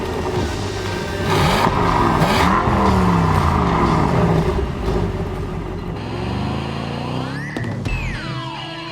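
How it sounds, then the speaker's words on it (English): Loud, close exhaust note from a Mercedes-AMG S 63 driven in Sport Plus mode, with a deep rumbling roar rising and falling as the engine revs and the car accelerates, then easing toward the end. "that exhaust note sounds really good"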